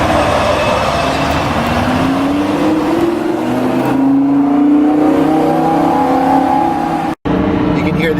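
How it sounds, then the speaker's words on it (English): A Lamborghini Huracan LP 580-2 V10 sports car engine revs loudly and steadily throughout, its rising tones climbing through the gears in heavy traffic, with a brief dropout near the end. "The sound of that V10 is just an amazing sound"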